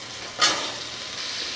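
Rohu fish frying in a pan with coriander seeds and squash, with a sudden loud sizzling burst that settles into a steady, close hiss. No voices.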